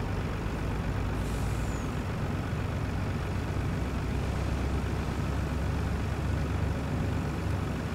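Heavy truck hauling hops to the brewery in Farming Simulator 19, a steady low engine drone with continuous rumble throughout and a faint hiss near the start.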